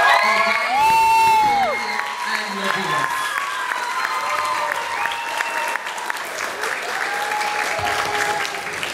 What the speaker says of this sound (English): can we take a moment to applaud all the shining stars we call our parents